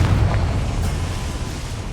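A Confringo fire spell bursts in Hogwarts Legacy, a loud, close explosive blast with a deep rumbling low end that dies away over about two seconds.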